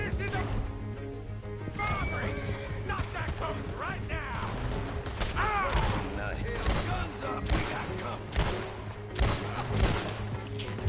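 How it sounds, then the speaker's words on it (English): Scattered gunfire in Red Dead Redemption 2 amid horses, irregular shots and cracks mixed with neighing and hoof clatter, moderately loud under someone talking throughout. "I'm just shooting fucking wild right now"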